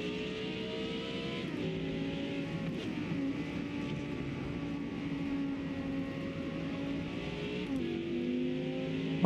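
A Lamborghini Huracan STO engine drones steadily in a racing game, pitch climbing through the gears with brief dips at shifts, loud and continuous throughout.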